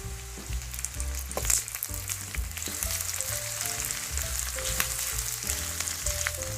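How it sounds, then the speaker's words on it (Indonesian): Shallots, garlic, lime leaves, bay leaves and galangal sautéing in hot oil, a steady sizzle with occasional stirring clinks and scrapes, heard up close over soft background music with no talking. "Bumbu yang tadi sudah diiris dan digeprek, sekarang waktunya ditumis."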